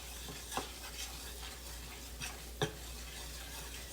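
Southern white gravy being stirred in a pan over medium heat, a faint soft simmer under a few scattered utensil scrapes and clinks against the pan, quiet and close with no talking.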